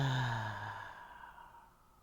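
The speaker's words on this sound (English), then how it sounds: "Deep breath in. One more breath. And exhale." A single deep, slow exhale, voiced like a sigh, starts full and close, then fades softly away over about two seconds.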